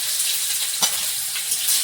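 Chopped onion hits hot oil seasoned with five-spice in a brief, soft sizzle, with one sharper crackle burst over a steady frying hiss.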